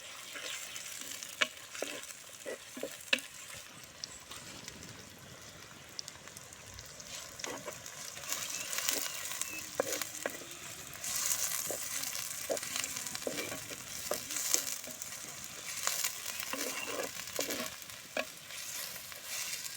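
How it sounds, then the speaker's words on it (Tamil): Onions sizzle softly in a pan for a duck fry while a utensil scrapes and stirs in irregular clicks and taps, quiet and close, no voices. "அந்த வெங்காயத்தையும் போட்டுக்கலாம் வெங்காயம் கொஞ்சம் நல்லா வேகட்டும்"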